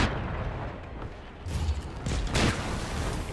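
A rumbling explosion in the video game Flintlock: The Siege of Dawn, heavy low booms swelling in two bursts over a continuous noisy battle background, with no voices heard.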